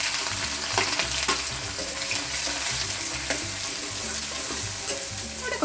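Onion frying in a pan of oil alongside chicken, a dense continuous sizzle with occasional stirring knocks over a low background hum.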